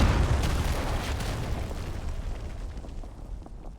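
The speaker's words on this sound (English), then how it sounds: "Here comes a cruise missile." Cruise missile blast in a competitive Call of Duty esports match, heard as a loud, dense, rumbling explosion that fills the whole moment and slowly fades.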